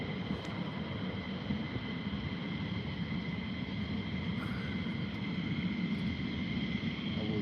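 An aircraft taxiing toward the runway, a steady broad engine roar held at a distance for the whole stretch with no talking.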